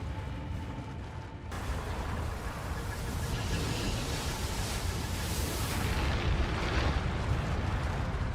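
A volcanic magma eruption sound effect, a dense, continuous deep roar that swells in the opening seconds and then rumbles on loudly and steadily without break.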